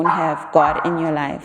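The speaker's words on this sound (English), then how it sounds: "That's my dog" A pet dog gives a short, mid-volume bark or yip partway through, heard under a person's continuous speech.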